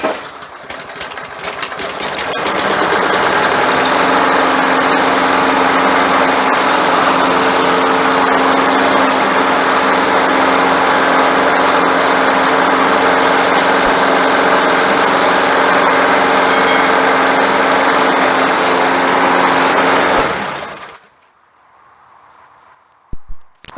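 A small pull-start engine on an old, neglected walk-behind lawn mower runs steadily and loudly for about twenty seconds, a constant high buzzing drone, then cuts off abruptly into near silence.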